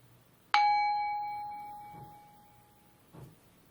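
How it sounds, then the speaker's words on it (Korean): A single calming bell chime strikes clearly and rings out with a long, slowly fading metallic tone in a quiet room, followed by faint soft knocks. "자, 그러면 오늘도 마음이 편안해지는 종소리 들려드릴게요."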